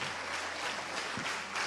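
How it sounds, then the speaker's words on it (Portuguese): A church congregation applauding, a dense, fairly loud wash of clapping hands that carries on evenly throughout with one brief thump near the middle. "Vamos aplaudir Jesus na vida desses irmãos"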